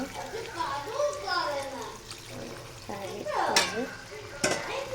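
Water splashes into a pan of sizzling chicken gravy, a stirring, bubbling hiss that swells briefly midway while a person talks over it at close range.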